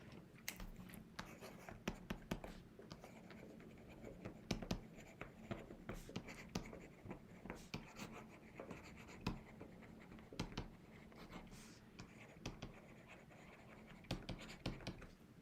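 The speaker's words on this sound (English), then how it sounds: "Let me just write it here." Pen scratching across a writing surface while a circuit problem on an RS flip-flop is worked out in an electronics lesson; faint, irregular strokes and taps continue steadily with no talking.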